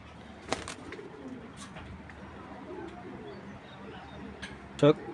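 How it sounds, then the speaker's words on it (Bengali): Pigeons kept for sale, including BRPO club racing males, give soft low coos, with a brief louder coo near the end, under faint background talk and rustling. "দুইটাই আপনার বিআরপিও ক্লাবের কবুতর"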